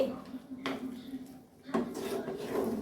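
Garam masala stirred into a Bengali greens curry in a pan: a few scraping, knocking strokes of a spoon against the pan over a low hum, with a voice talking over it.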